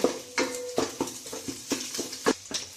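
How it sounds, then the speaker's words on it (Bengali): Egg frying in a rice cooker, a string of rhythmic scraping and tapping strokes over a soft sizzle, about eight strokes in under three seconds, close and moderately loud. "ডিমটিকে ভালোভাবে ভেজে নিতে হবে।"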